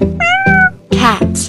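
A cartoon cat meows twice, loud and close, each call a drawn-out wavering cry separated by a short gap, with no other sound around it.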